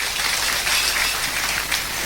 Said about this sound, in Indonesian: tepuk tangan dong buat santri seluruh Indonesia